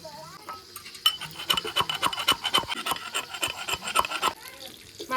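Garlic cloves being crushed, a series of sharp rhythmic pounding thuds and scraping rubs, close and clear, with a voice talking faintly in the background.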